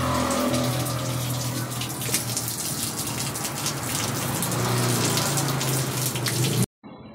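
Water gushes steadily from the top of a Midea automatic washing machine during a deep cleaning, a loud continuous rush that stops abruptly near the end.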